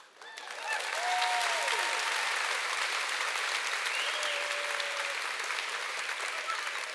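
A crowd of about 1,500 women cheers and applauds, a dense, steady roar of clapping that swells within the first second and holds loud, with a few whoops rising above it.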